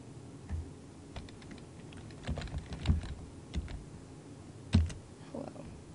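Keys on a computer keyboard clatter in an irregular burst of close, fairly quiet taps while text is entered for a Photoshop project, with a few louder strokes standing out and no talking.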